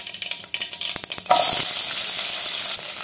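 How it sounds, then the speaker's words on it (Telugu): Mustard seeds, cumin and finely chopped onions hit hot oil, starting with a few crackles and stirring taps, then bursting into a loud, steady sizzle that fills the rest of the moment. "ఆయిల్ హీట్ అయిన తర్వాత 1/2 టేబుల్ స్పూన్ ఆవాలు, 1/2 టీ స్పూన్ జీలకర్ర, సన్నగా చాప్ చేసి పెట్టుకున్న ఆనియన్స్"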